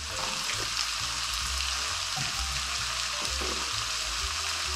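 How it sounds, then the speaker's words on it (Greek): Two large finely chopped onions sautéing in a pan with a teaspoon of sugar give a steady, dense sizzle throughout, with occasional low knocks from stirring. "Θα τσιγαρίσουμε 2 μεγάλα κρεμμύδια ή 3 μικρά κρεμμύδια ψιλοκομμένα."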